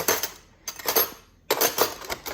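Cutlery and dishes clattering as they are put away in a home kitchen, three bursts of clinking metal and crockery separated by short pauses, close and fairly loud.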